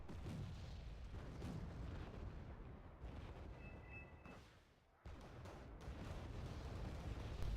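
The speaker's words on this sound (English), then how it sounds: "Now I'm hitting some mortar strelky." Mortar fire in the real-time strategy game Wargame: Red Dragon, a series of deep, rumbling booms and blasts rolling over one another at fairly low level, with a brief dip partway through and no talk.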